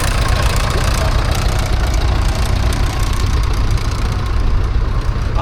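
A McCormick Daring tractor engine idles at a spring country fair in Laughton, with a loud, steady, close chugging rumble that runs without a break.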